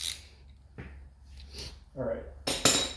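Bolts are loosened and removed from the inner primary of a 1997 Harley-Davidson Road King, with a few close metallic clinks and tool rattles amid quiet shop background and a brief burst of louder metal at the end; someone talks briefly.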